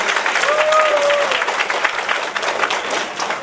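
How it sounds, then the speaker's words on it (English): An audience at a conference gives a sustained round of applause for an interpreter, a dense even wash of clapping throughout with a short tonal whistle or feedback line early on. "Let's give him a round of applause again."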